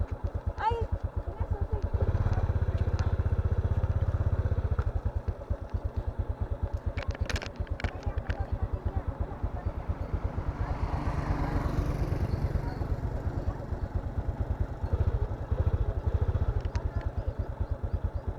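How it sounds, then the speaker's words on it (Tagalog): A tricycle motorcycle engine putters steadily nearby with a rapid low chugging, rising and falling slightly, while people talk over it. "Susi ng motor. Susi ng motor ba? Tricycle."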